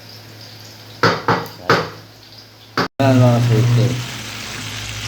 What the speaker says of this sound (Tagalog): Prito ako ng salmon.